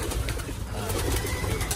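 Pigeons in a loft cooing softly and repeatedly over a steady background rush, close and continuous, with no talk during the sound.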